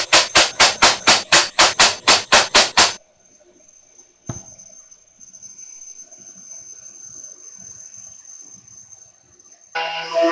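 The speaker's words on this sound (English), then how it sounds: "I'm going to use some brad nails to hold the one corner piece to the other corner piece" A brad nailer fires brad nails into old picket-fence wood, joining two corner pieces of a planter; about ten sharp, evenly spaced pneumatic bangs in quick succession, followed by quiet room tone and a faint whine.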